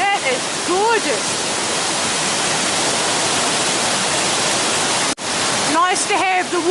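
Matai Falls, a waterfall in The Catlins, New Zealand, roaring as a loud steady wash of white water close by, with people exclaiming over it at the start and end.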